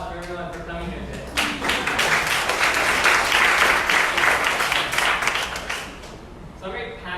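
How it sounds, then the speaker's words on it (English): A meetup audience bursts into a round of applause lasting several seconds, dense clapping swelling between stretches of someone talking before and after. "I want to hear a round of applause for everyone for coming here today"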